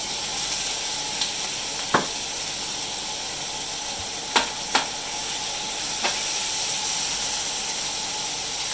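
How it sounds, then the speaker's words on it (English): Onions sizzling in a pan for Thai cashew chicken, a steady broad hiss with a few sharp clicks and scrapes from stirring, fairly quiet and close, with no talking. "And add our onions."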